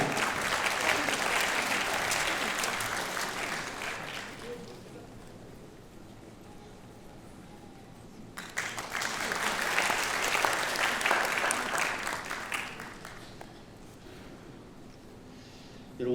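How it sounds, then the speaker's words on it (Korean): At a Korean-language speech contest for foreigners, an audience bursts into loud, dense applause. It lasts about four seconds, drops away, then swells again for several more seconds before fading. "박수 부탁드립니다."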